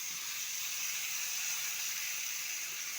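Pointed gourd (patol) fries in a pan with a steady, soft, broadband hiss that holds evenly throughout, with no voices over it.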